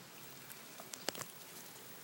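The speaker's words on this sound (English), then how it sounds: "it's raining early" Early-morning rain patters softly, with faint scattered drops ticking on a surface over a quiet, steady hiss, no voices present.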